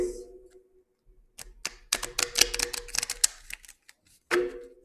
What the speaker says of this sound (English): I'm going to scramble the cards and we're going to shuffle three cards.